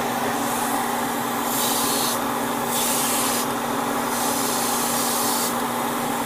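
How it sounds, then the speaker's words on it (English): An airbrush sprays paint onto a 1/144 HG Gundam model kit, a close, continuous hiss with short pulsing bursts as the trigger is pressed and eased, its nozzle spraying at an odd angle. "It's weird on my airbrush now that the nozzle is spraying in an opposite, in a weird angle"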